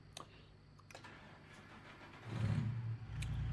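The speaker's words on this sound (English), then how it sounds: "So as you can see, the engine's pretty quiet." A Freightliner FLD truck engine in American Truck Simulator, fitted with a big-torque 1440 engine, idles quietly at first with a few faint clicks, then swells into a deeper, louder rumble as it revs up.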